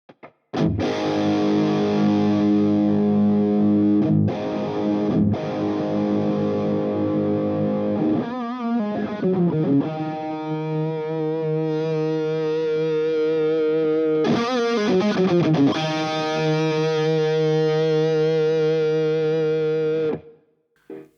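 An electric guitar through a Klotz Amplification distortion pedal at harsh, extreme settings rings out in loud, sustained, buzzing chords, with a few changes and a pick-scrape break before the final chord cuts off.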